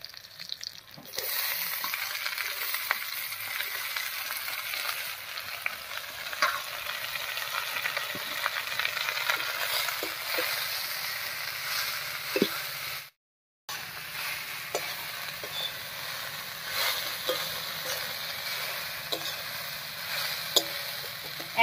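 Water spinach greens fry in mustard oil in a wok with garlic and green chili, a continuous busy sizzle with intermittent spatula scrapes and clinks, briefly interrupted midway.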